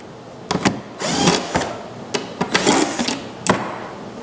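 Power drill backing screws out of a clamped wooden glue-up for a carpenter's toolbox handle, heard as several short whirring bursts of varying length, close and fairly loud, with brief pauses between them.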